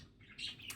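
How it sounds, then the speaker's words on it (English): Birds squawk in the background, faint and brief, rising into a couple of louder shrill calls near the end against a quiet outdoor backdrop. "You might hear some birds on the background."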